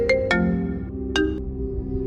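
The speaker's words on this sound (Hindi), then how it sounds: "दोपहर में उसकी माँ ने घबराकर उसे फोन किया।" A phone ringtone plays alone, bright tonal chimes in a short melodic pattern with a few sharp accented notes, loud and close.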